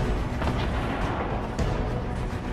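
Gunfire in a video game: a dense, loud, continuous rumble of shots and booms filling the moment, with no talk over it.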